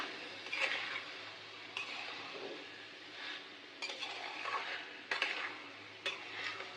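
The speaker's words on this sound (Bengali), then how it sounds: "এ পর্যায়ে আমি অ্যাড করে দিব ওলকপি দিয়ে আমি নাড়াচাড়া করিয়ে নিব।" Kohlrabi is stirred into a cooked-down spice paste in a pan, giving soft repeated scraping and clinking strokes at an uneven rhythm over a faint sizzle, fairly quiet and close.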